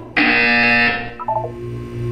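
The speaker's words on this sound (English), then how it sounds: "You will hear a buzzer." A loud electronic buzzer in the Portal 2 video game sounds once for about a second, then a short chiming tone and a low hum follow.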